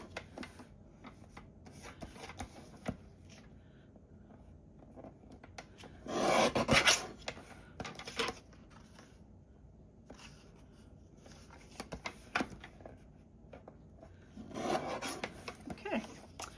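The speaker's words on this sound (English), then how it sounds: "I'm going to trim it down just ever so slightly to make it even." Scrapbook paper trimmed slightly to size, heard as soft close rasping cuts, one longer scrape in the middle and another near the end, with faint rustling between.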